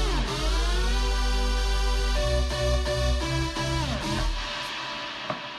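Stacked gliding synthesizer voices layered across four MIDI channels in FL Studio, bright harmonic tones sliding and stepping in pitch together, with pulsing low bass notes underneath and a short click near the end.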